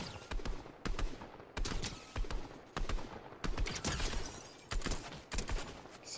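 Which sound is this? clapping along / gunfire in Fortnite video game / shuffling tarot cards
gunfire in Fortnite video game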